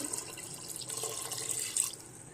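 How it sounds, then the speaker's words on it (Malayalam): A faint, short trickle of a cup of water pouring into a soup pot, splashing softly for a couple of seconds. "ഞാൻ ഇതിലേക്ക് ഒരു കപ്പ് വെള്ളം ഒഴിക്കുന്നുണ്ട്"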